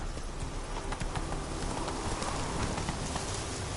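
Roach, Geralt's horse in The Witcher 3, runs at speed: a steady, close patter of hoofbeats over continuous rushing game ambience, with no talk.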